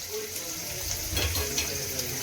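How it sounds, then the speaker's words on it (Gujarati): Paneer pieces frying in hot oil in a home kitchen, a faint continuous sizzle with light crackles, close by, no words spoken. "પનીરને પહેલાં તળી નાખવાનું તેલમાં નાખીને"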